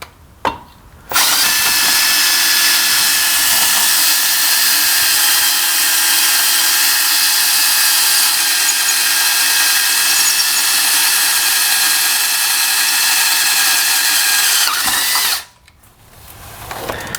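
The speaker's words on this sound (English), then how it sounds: "what I'm going to do first is drill 2 5/16 holes in the pulley" A power drill bores a 5/16-inch hole into a Troy-Bilt/MTD/Cub Cadet lawn tractor pulley, a loud, steady whine running for about fourteen seconds, starting and stopping abruptly with quiet handling noise on either side.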